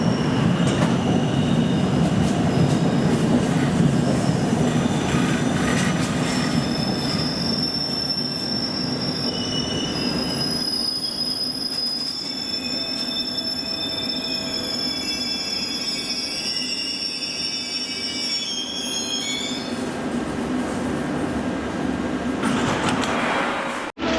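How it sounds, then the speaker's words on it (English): A London Underground District line train pulls into Upminster station on a winter afternoon and terminates, loud wheel squeal rising over heavy rumble, then long sustained high screeches as it slows, with no voices. "This train is now terminating here from either Ealing or Richmond."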